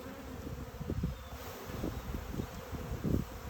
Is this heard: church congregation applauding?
no